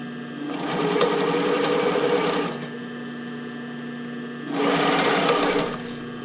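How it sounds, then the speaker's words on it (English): A sewing machine stitches bias tape onto a fabric edge in two loud, close bursts of rapid whirring, with a quieter idle hum in the pause between them. "I'm going to put that right onto the edge and still sew right down the middle."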